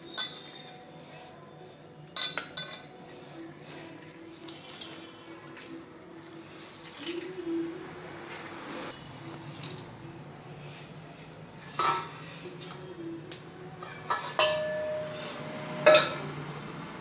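Soaked soybean chunks squeezed by hand in a kitchen, giving wet squelches and water dripping and splashing, mixed with clinks of dishes and utensils across a steady stretch of handling.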